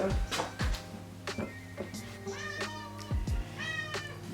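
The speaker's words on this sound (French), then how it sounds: "Ah, mon petit chat." Pet cat meowing indoors, several drawn-out wavering meows mixed with clicks and thumps of handling, close and fairly loud, with no talking.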